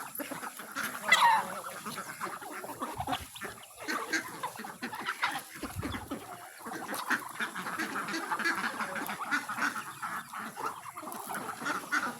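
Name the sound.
ducks at feeding time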